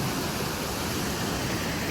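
Rushing water of Rocky Creek, a steady, dense broadband roar like a nearby stream or small waterfall, continuous and unbroken throughout with no voices.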